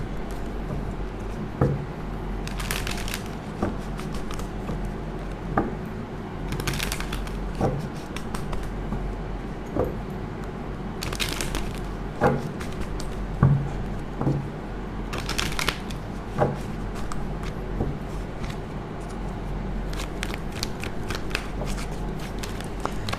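A tarot card deck is shuffled by hand, giving repeated crisp riffling bursts at a steady pace with soft taps and rustles between them, close and clear with no talking.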